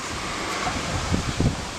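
Wind gusting outdoors beside a river on a hot, breezy day, a steady broadband rush with a few stronger buffets toward the end, close to the microphone and with no voices.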